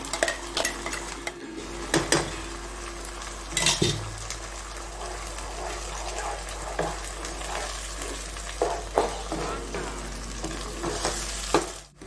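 Ground tomato paste hits a hot pan for goat intestine gravy, setting off a steady close sizzle and frying hiss, with several clatters of a spoon stirring against the metal pan and no talking.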